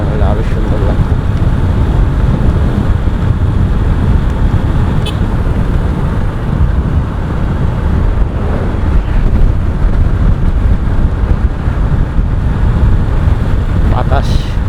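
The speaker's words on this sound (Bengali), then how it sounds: "বাতাস, বাতাসের অনেক চাপ।" Strong wind buffets the microphone throughout a motorbike ride along a highway near Rajshahi, a loud, continuous low roar with gusty surges and no pauses.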